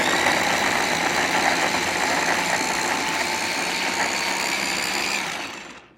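Blender or food processor pureeing onion and garlic for kimchi paste, a loud continuous high whirring motor drone that holds steady for several seconds and then winds down.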